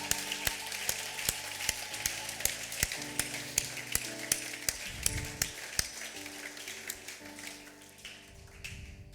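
Church congregation applauding together, a loose run of rhythmic claps or taps at a steady pace over a sustained musical background, moderately loud, with no talk over it.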